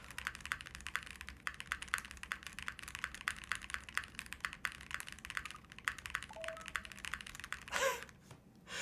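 Rapid clacking keystrokes on a Link65 mechanical keyboard resting on a pillow, a dense, even patter of soft-edged clicks close to the microphone, ending with a brief louder rustle.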